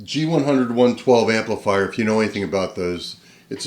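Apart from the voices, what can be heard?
None of the usual background noises is heard.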